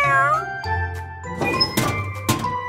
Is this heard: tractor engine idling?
no